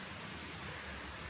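Steady rain falls in a dense, even hiss on a rainy October day, fairly faint and continuous with no voices.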